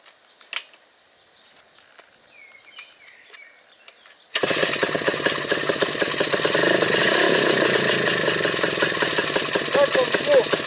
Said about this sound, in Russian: Хочу представить вам свой кастомный мотоцикл под названием «Спартанец».